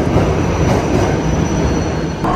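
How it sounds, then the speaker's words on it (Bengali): A metro train pulls into an underground station in China, a loud steady rumble of wheels and carriages filling the platform, with a faint squeal and a sharp release near the end. "এই আরেকটা মেট্রো ঢুকেছে, আশা করি এটাই উঠতে পারবো।"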